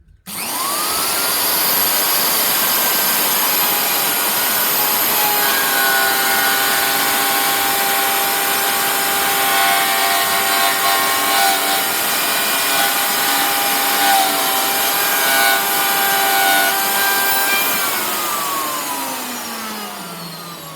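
A wood router whines steadily at full revs, cutting continuously through wood for about twenty seconds before spinning down near the end.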